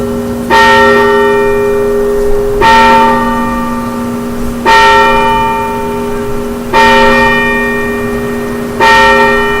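A large church bell tolls five times at an even, slow pace, each loud strike ringing out and lingering before the next.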